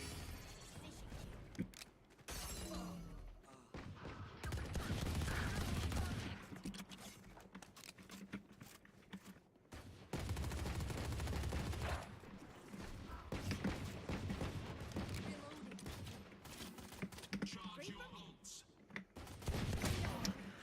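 Gunshots from Valorant, arriving in clusters of loud sharp cracks separated by quieter gaps, with keyboard clicks and game sounds in between.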